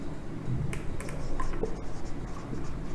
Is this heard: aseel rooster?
no